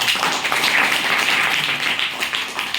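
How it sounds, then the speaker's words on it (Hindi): A classroom of students claps together, a steady, dense patter of many hands sustained at even loudness for a few seconds. "ठीक है, ताली देने के लिए।"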